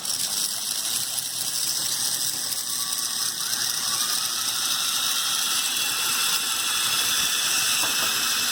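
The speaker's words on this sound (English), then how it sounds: "So this one is driven by two power functions large motors." Two Lego Power Functions large motors drive the mechanisms of a Lego Technic Canadair CL-84 model, making a steady, close whirring with a fine ratcheting, gear-like chatter throughout.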